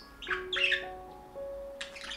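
A pet budgerigar gives three short bursts of harsh squawks and chirps, close and moderately loud, over a faint background of steady tones and room noise.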